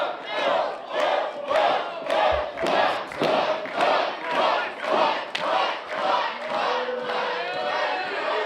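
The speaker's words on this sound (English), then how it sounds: "Crowd solidly behind Bull Brady" A wrestling crowd at a live NWL TV main event roars and chants in steady pulsing waves, loud and continuous throughout, with occasional thuds from the ring beneath the noise.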